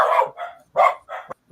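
Dog barking in a short burst of several loud, close barks with uneven gaps, heard alone without talk, during a lively birthday gathering on a morning show.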